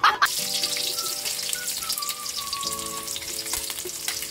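Onions frying in a hot pan for pork menudo, a steady close crackling sizzle throughout with a brief clatter at the start and a faint tonal hum in the background.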